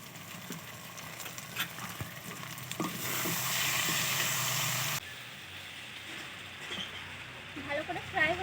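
Chicken seasoned with salt and black pepper fries in a pan while it is stirred. Scraping stirs sit over a steady sizzle, and the hiss swells loudly in the middle before easing back to a quieter fry.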